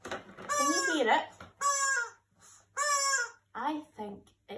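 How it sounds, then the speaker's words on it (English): Chicken-like bird clucking comes in four or five short, close, loud bursts separated by pauses, heard in a school activity session. "I think it's a bird."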